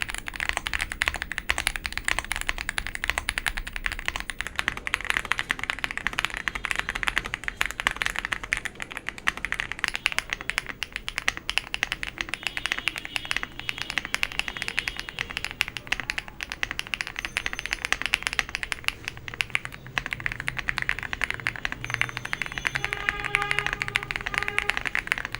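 Dense, continuous clacking of keys typed on a budget aluminum-cased mechanical keyboard, rapid and unbroken for about twenty-five seconds, close and crisp with no voices.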